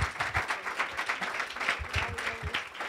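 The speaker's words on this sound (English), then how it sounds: "maybe if we could have a second round of applause once again for the entire panel, as well as for the movie" Audience applauding a panel and a film at a commemoration of the Rwandan genocide against the Tutsi, a steady wash of clapping with a faint voice murmuring beneath it.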